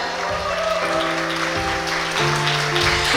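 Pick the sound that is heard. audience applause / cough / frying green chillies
audience applause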